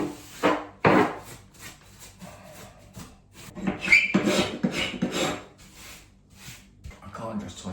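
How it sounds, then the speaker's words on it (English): Uneven rasping scrapes of a tool knocking lumps off a plastered wall, coming in short bursts at close range, with a voice faintly present in the background. "I can't just tosh over it. I've got to scrape off these lumps."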